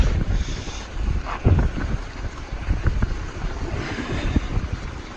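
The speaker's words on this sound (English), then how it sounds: "And the wind is blowing pretty good on the lake here today." Steady wind gusting and buffeting across a lake beside a boat, with rumbling microphone wind noise and occasional thumps of water or hull, continuous and fairly loud throughout with no talking.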